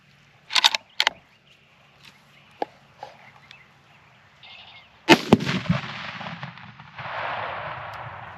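A .50 Beowulf rifle firing Winchester white box 145 grain rounds at a Tannerite target: two sharp early shot cracks, a few lighter knocks, then a loud blast around the midpoint followed by a long rushing, crackling tail of debris.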